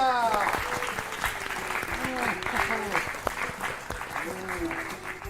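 Studio audience applause on a children's education show, bursting out loudly and holding as a steady dense wash of clapping while a host keeps talking over it.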